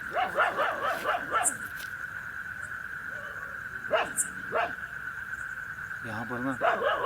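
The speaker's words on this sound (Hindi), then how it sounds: "कुत्ता है, छोड़ दो उसको," A dog barks in short bursts, moderately close, mixed with a whimper, while people talk outdoors against a steady insect drone.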